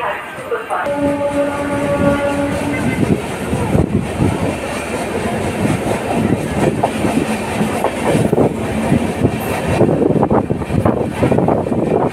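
A passenger train pulls away from Santragachi station, rumbling with rhythmic wheel clatter and a horn blast near the start, loud and continuous from inside the carriage.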